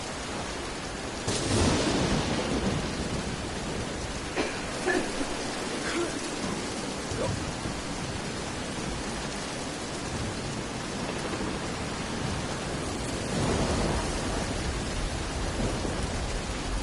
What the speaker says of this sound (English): Now I've got a storm to deal with.